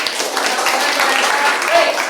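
Seventh-grade students applauding in a classroom, a dense, fairly close burst of clapping that carries on evenly for about two seconds.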